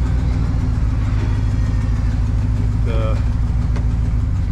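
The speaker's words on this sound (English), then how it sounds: "Yeah, it needs some exhaust work, but it's a plow pickup." A 2001 Chevy plow pickup with worn, rusting bodywork idles with a steady low rumble from an exhaust needing repair, constant and close, while people talk nearby.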